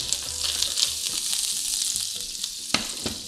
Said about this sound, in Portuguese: Dourar um pouquinho a manteiga. Shallot e semente de erva doce.